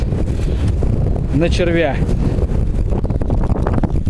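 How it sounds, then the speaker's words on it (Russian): Strong wind buffets the microphone by the Oka river on a fishing trip, a loud, constant low roar with brief speech over it. "ветер очень сильный"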